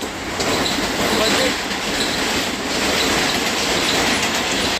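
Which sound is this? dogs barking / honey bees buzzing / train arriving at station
train arriving at station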